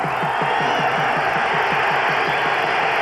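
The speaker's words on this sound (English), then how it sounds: "And the crowd's into this one right now." A packed stadium crowd at a 1994 CFL game between the Edmonton Eskimos and Saskatchewan Roughriders, a steady loud roar of voices with rhythmic clapping or chanting pulsing through it.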